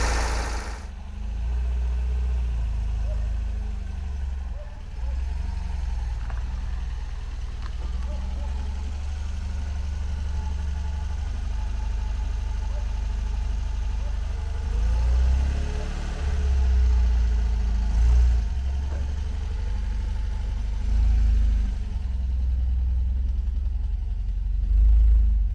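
An MGB car engine idles steadily as it warms up, a continuous low rumble held for the full stretch with slight swells, close by and with no talking.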